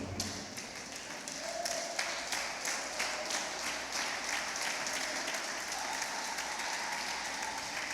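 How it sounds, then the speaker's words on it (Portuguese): A church congregation, standing in worship, claps steadily and continuously, a dense wash of applause heard from a distance at moderate volume. "Se coloque de pé no seu lugar, aplaudindo bem forte ao Senhor."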